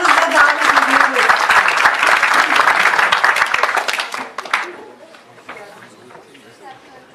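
Warm applause from an audience at an awards ceremony, welcoming a department head to the podium, dense and steady for several seconds before tapering off into scattered claps and murmuring.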